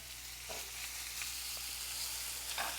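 Chicken pieces sear in a hot pan for bang bang lettuce cups, giving a steady, close frying sizzle. A few brief crackles and bursts rise above the hiss, with no talking.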